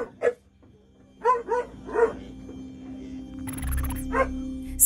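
Several dogs bark in sharp, separate bursts inside a hoarding home in McCracken County, Kentucky, with a steady low hum underneath and a brief hiss late on.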